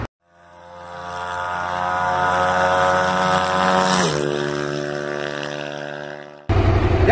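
A stock Yamaha MT-07 motorcycle engine roars on a dynamometer, climbing steadily in pitch through a long full-throttle pull, then briefly dropping before a loud burst at the end.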